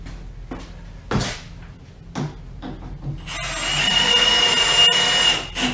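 A power driver sinks Torx screws into wooden hockey boards: several knocks and handling clunks first, then a loud continuous whir of the driver spinning for the last few seconds.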